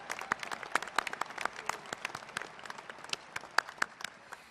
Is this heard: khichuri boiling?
no